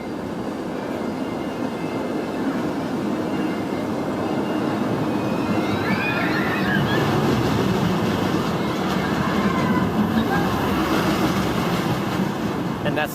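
The Apollo's Chariot roller coaster train at Busch Gardens Williamsburg rolls along its steel track, a broad rumbling roar that swells and stays loud and steady as the cars pass nearby.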